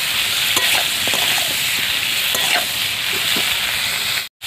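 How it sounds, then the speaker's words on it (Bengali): Sliced bitter gourd fries over high heat with salt and turmeric powder in a pan, a loud continuous sizzle broken by clinks and scrapes of a stirring spatula, cutting off abruptly near the end. "দিয়ে উচ্ছেটাকে একটু 3-4 মিনিট একটু ভেজে নেব।"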